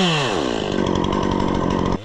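A chainsaw roars close and loud at full revs as it makes the back cut through a standing tree, one steady, unbroken run of cutting with no voices.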